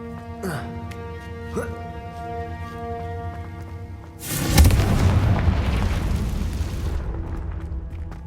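A Confringo blasting spell from the Hogwarts Legacy video game erupts in a loud, close explosive boom that rumbles on for a few seconds over a bed of game music, with a spoken voice heard before the blast.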